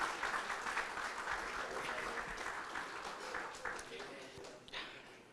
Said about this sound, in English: Let's give another round of applause to our amazing speaker.